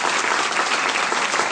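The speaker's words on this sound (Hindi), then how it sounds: "हम सभी मिलकर के शास्त्री के लिए एक बार ताली बजाए" An audience at a Shrimad Bhagwat Saptah religious discourse claps for the Shastri, a dense, steady burst of loud applause filling the space without any speech.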